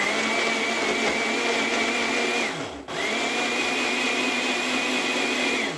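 Kitchen blender grinding walnut flowers, dandelion, aloe and medicinal herbs into a hair mask, running loud with a steady high motor whine. It briefly dips and restarts midway, and a short word is spoken over it.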